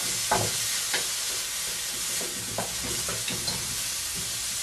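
Garlic sizzles and fries in a pan as a steady hiss with light crackles and a few stirring clicks, fairly close and moderately quiet.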